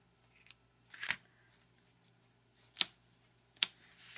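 Scissors snipping through card stock while making a Father's Day card, three short crisp cuts spaced apart in a quiet room, close and fairly faint.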